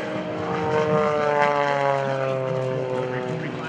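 A propeller aerobatic plane, flown by Jan Collmer at the Blue Angels homecoming airshow, drones steadily overhead with a loud, rising then easing buzz that shifts in pitch as it passes, with faint crowd murmur beneath.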